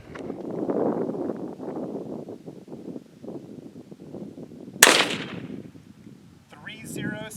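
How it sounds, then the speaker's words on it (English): A single sharp crack from a .22 Hornet rifle firing a Hornady 35-grain ballistic tip varmint round, fired outdoors over a chronograph toward steel, preceded by wind and rustling noise and followed by a brief voice. "Getting ready to shoot 22 Hornet."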